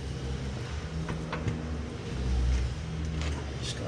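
A stump grinding machine runs outside in the background, a steady low engine drone with a rumble that swells slightly partway through.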